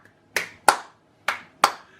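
Hand claps in a swung blues triplet rhythm with the third note of each triplet accented, four crisp, close claps in two uneven pairs, alone without talk.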